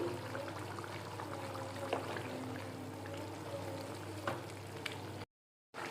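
Chicken curry simmering and sizzling in oil, a steady close bubbling hiss with faint crackles and occasional soft clinks, continuous for about five seconds before cutting out.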